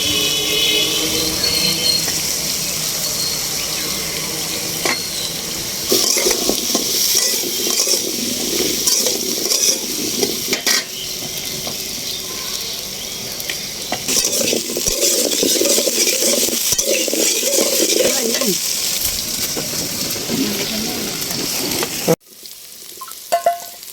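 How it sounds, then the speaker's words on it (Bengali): New potatoes with turmeric fry in a pan, giving a dense, loud sizzle with frequent stirring scrapes and clinks. It runs continuously until an abrupt stop near the end, with no talk. "এই কারণে আমি আলুগুলো ভেজে নিচ্ছি"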